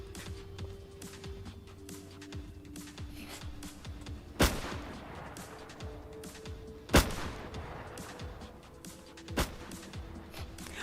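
Shotgun blasts in a video game, with three loud separate booms about two and a half seconds apart over a busy backdrop of distant gunfire and game noise.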